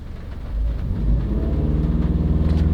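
A Subaru engine revs up from idle, its rumble rising steadily into a louder, sustained throaty drone, close and alone with no talking.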